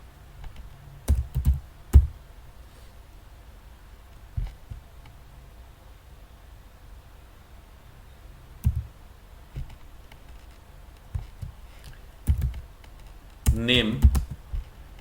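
Scattered keystrokes on a computer keyboard, a few isolated clicks and short bursts of typing separated by quiet pauses, close and fairly soft over a faint room hum.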